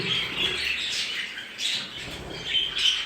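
Japanese bantam chicks chirp and peep close by in quick, overlapping high calls, with a few louder squawky bursts over a soft background hiss.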